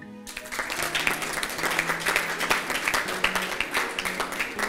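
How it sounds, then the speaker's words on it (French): Audience applause at a French-language televised contest, a dense, lively crowd of clapping hands that starts abruptly and holds steady and loud throughout. "Donc vous devez applaudir"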